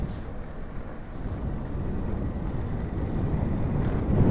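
Wind on an exposed hilltop at Puy Brionnet rumbles and buffets the microphone as a steady low roar that grows a little stronger toward the end, with no one speaking.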